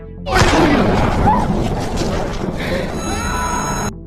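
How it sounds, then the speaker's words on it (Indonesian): Gunfire in an action film, a loud, dense blast of shots and booming impacts sustained for several seconds, up close and dominating the mix. "Susi berusaha menyelamatkan Maudie, namun digagalkan oleh Jarod, yang tega menembak adiknya sendiri"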